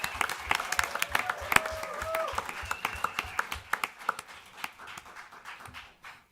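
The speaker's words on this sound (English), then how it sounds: "we'll give her a round of applause while she does so" Scattered applause from a modest group at a city council meeting, with individual sharp hand claps standing out, a voice briefly audible, and the clapping gradually thinning and fading out.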